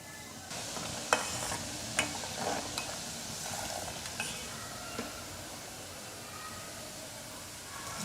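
A spoon steadily stirs a spiced jaggery mixture with fenugreek and ground whole spices in a pan over a low flame for Gujarati gunda mango pickle, giving soft scraping with a quiet sizzle and occasional clinks against the metal pan.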